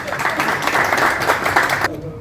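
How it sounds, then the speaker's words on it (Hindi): An audience at a meeting bursts into loud applause that continues for about two seconds and then stops abruptly, with no speech. "तालियों से स्वागत"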